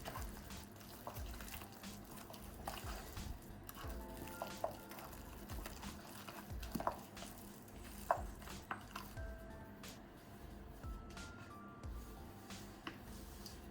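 Onion being mixed through mashed potato in a bowl for caramelized mash, giving soft, steady scraping and squelching with a few sharper clinks of utensil on dish, close and continuous with no talking.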